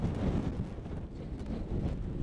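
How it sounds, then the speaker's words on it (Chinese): Strong night wind on an exposed clifftop in Utah, a heavy continuous low buffeting roar against the microphone with gusty swells and no voices. "哦，好大风啊"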